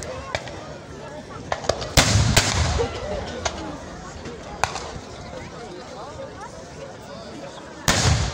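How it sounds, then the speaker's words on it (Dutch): Artillery cannon fire at a Battle of Waterloo reenactment: a few sharp booms, including two close together, stand out over a steady outdoor crowd murmur, with more shots further off. "La préparation d'artillerie est effectuée par une batterie de 80 pièces qui vont s'avérer très efficaces dans un premier temps."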